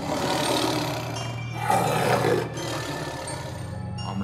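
A cartoon tiger in the Sundarbans lets out a loud, rough roar that swells and fades over a few seconds, alone without speech.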